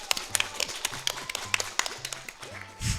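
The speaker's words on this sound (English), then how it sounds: "Everyone clap for Mr. Poop." Sharp hand claps scattered irregularly over a few seconds, fairly close, with faint low tones beneath and a brief rumble at the end.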